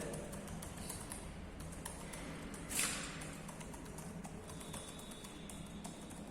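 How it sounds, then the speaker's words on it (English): Quiet, rapid keystrokes tapping on a computer keyboard in a steady stream, faint against a low background hum. "I'm typing anything, any content."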